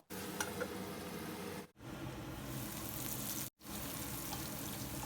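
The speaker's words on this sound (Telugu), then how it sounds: "ఆనియన్స్ని మంచి గోల్డెన్ కలర్లోకి వచ్చే వరకు కూడా మూత పెట్టి వేయించుకుందాము" Onions frying with a pinch of turmeric in a covered pan: a continuous, even sizzle and crackle heard up close, broken by two brief moments of silence.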